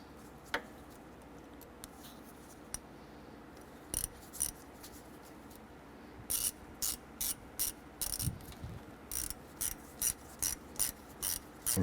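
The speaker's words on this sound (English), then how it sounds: "Using our 15/16 socket, let's go ahead and snug down our hose clamp here." A hand ratchet with a 15/16 socket snugs down a hose clamp on a 2008-2012 Honda Accord during an A/C condenser replacement, heard as sparse clicks early on, then a steady series of short, close ratcheting bursts, with no talking.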